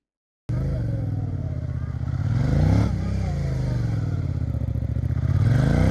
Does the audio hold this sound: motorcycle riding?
yes